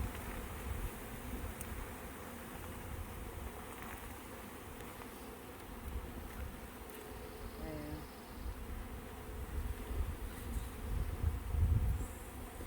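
Dense buzzing of many honeybees swarming close around a hive as it is closed up, a continuous humming drone with occasional soft knocks and handling noises.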